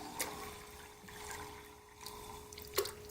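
A Drinkwell Stone Pagoda cat water fountain running, with a steady, faint trickle and splash of flowing water and a few brief louder drips, fairly close and alone without talk.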